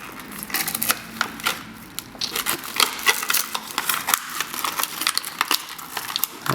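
Plastic packaging being peeled off a camera remote strap from a Sony FDR-X1000V action camera bundle, a dense run of close crinkling and crackling rustles in irregular bursts, with no talk.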